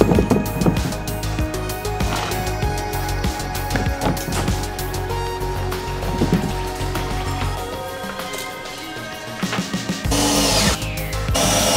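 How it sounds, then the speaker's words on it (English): A power drill bores holes in a car during a stereo install, whining and grinding steadily for several seconds, close and loud, with a brief change in pitch near the end. "We're going to drill 2 holes"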